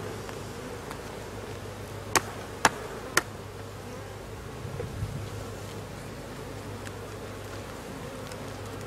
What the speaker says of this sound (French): vais secouer les abeilles à l'intérieur.